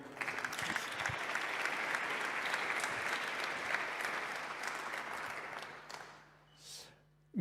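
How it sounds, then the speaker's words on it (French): Applause from the audience at a startup demo day event at Station F, sustained dense clapping that fades out toward the end, followed by a brief faint murmur. "Un tonnerre d'applaudissements pour eux également."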